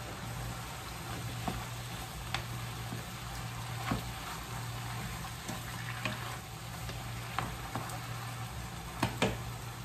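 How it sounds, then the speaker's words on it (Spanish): Beef pieces frying in a pot for a stew, giving a constant soft sizzle with scattered pops and crackles, close and fairly quiet, with no talk. "La carne se está friendo."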